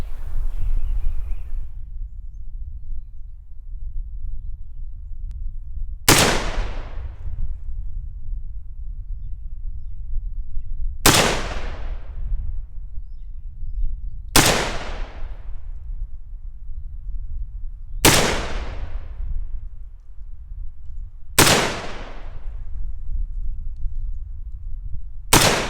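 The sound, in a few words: PTR A3S HK91 clone rifle shots fired at 40 yards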